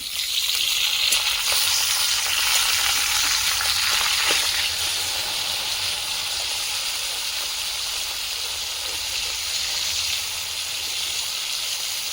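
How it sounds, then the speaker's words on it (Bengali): Steady, loud sizzling of a fish frying in hot oil in a pan, a dense crackling hiss that continues without pause. "মাছটা দিকে ভাজা হয়ে গেছে উল্টে দেবো"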